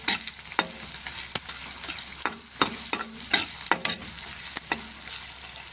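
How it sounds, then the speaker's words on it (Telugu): Onions and green chillies frying in hot oil in a pan, with steady sizzling under repeated scraping strokes of a spoon as they are stirred, close and clear. "కొంచెం వేగనియాలి ఉల్లిగడ్డ పచ్చిమిరపకాయలను."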